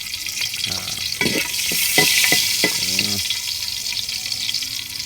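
Oil is poured into a hot pan in a village kitchen, a loud hissing rush with short scraping strokes for about two seconds before it settles into a softer sizzle.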